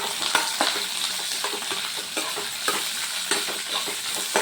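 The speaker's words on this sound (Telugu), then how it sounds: "తర్వాత ఆనియన్స్ వేస్తున్నాను. ఆనియన్స్ వేసి అవి కూడా వేయించుకోవాలి." Onions fry in hot oil in a pan alongside lentils, giving a continuous sizzle broken by repeated scraping stirs with a spoon, close and moderately loud, with no voices.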